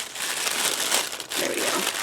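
A product package is ripped open close by, with a crisp burst of tearing and crinkling plastic or paper lasting about two seconds and fading briefly in the middle.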